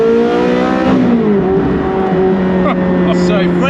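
Loud, close roar of a Ferrari 430 Scuderia engine while driving, with a strong harmonic drone whose pitch drops and then steadies at a lower note.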